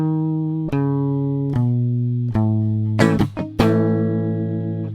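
Electric guitar plugged straight in as a dry DI signal through the Church Burner amp plugin by Misha Mansouri, a few sustained chords struck one after another with a quick strummed flurry near the end, close and ringing.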